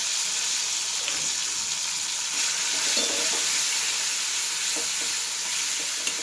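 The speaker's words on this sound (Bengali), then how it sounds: "এটাকে ভালো করে তেলের মধ্যে নেড়ে" Ground garlic paste fries in hot oil with bay leaf and chopped garlic, a steady bright sizzle with intermittent soft stirring scrapes throughout, near and continuous.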